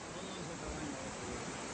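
Broad, steady rush of flowing water where two rivers meet, loud and close, with no breaks.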